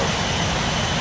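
In a flight simulator, an airliner in Eva Air livery comes in to land, its engines a steady, loud, broadband roar across a brief moment with no voices.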